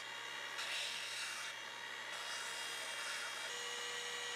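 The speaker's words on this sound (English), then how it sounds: "Right here I'm sanding down the edges of the guard" Steady, harsh rasping of sanding down the edges of a wooden sword's guard, continuous and fairly loud with slight shifts in pitch as strokes change, no voices.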